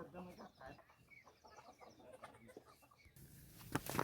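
Farmyard chickens cluck in short, irregular bursts at moderate distance, with a dog nearby. Faint scuffling and other background noise sit underneath, and a louder rustle comes near the end.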